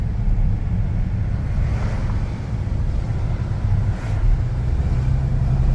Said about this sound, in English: Magic Sands Beach.